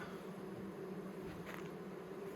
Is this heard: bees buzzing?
yes